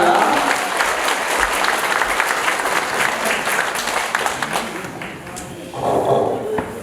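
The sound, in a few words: applause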